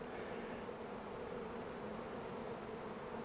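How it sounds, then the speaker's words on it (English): Honey bees buzzing at a beehive entrance, a steady dense hum that holds evenly throughout at close range, with no voices. "I can get out of the way of all the other bees trying to get in here"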